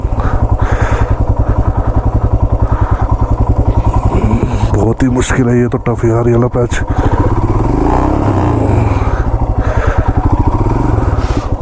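A big motorcycle stuck on black ice on a snowy mountain road near Tungnath Chopta revs loudly and unevenly as it skids, the engine rising and falling close by while someone talks over it.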